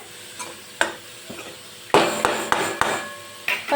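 Mixed vegetables fry in a pan for a restaurant-style veg Manchow soup, giving a steady sizzle broken by loud clanks and scrapes of a spatula against the pan.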